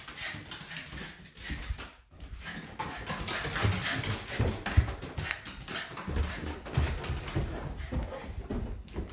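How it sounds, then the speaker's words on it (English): A large dog moving about close by as it is let outside for a walk, with panting, claws and shuffling footsteps over steady background noise, and no talking. "I'm gonna let my dog outside."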